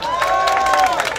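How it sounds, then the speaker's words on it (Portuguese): Street crowd at an outdoor MC performance clapping and cheering for a dancer, a loud dense burst of applause and shouts over steady tonal music playing through. "Palmas pra Carla."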